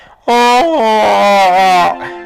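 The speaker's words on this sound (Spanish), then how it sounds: "Los gemidos que aquella pobre cachorrita emitían iban cambiando de tono" A single loud, drawn-out whimpering whine from a puppy, close and high-pitched, wavering slightly before trailing off.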